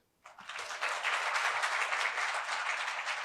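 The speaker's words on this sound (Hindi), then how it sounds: "तो फ्यूचर यू के लिए एक बार ताली हो जाए जोर से." An audience at a university event breaks into loud applause that starts suddenly and holds as a dense, steady wash of clapping hands, with no talking over it.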